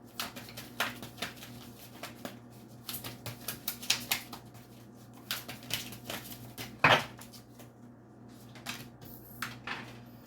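Tarot cards shuffled by hand in a quiet room, irregular soft riffling bursts and taps with brief pauses between them, one sharper slap partway through.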